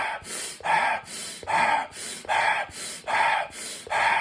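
Wim Hof breathing exercise: a steady series of deep, forceful breaths, each a loud, close rush of air in a regular rhythm of about two per second, with no talking.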